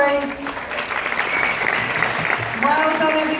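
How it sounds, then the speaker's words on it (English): Children and staff clap at a school end-of-year assembly, a continuous patter of hand claps with voices rising over it at the start and again near the end. "Let's give him his clap."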